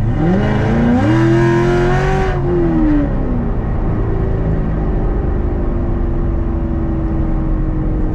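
A C7 Corvette fitted with a Corsa Xtreme exhaust, heard from inside the cabin while driving: the engine revs up loudly, holds, then eases back into a steady, droning cruise with a deep exhaust rumble.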